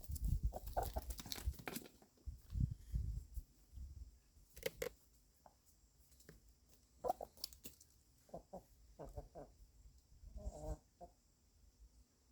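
Scattered soft clucks from a few chickens, intermittent and fairly close, with quiet gaps and light rustling between them.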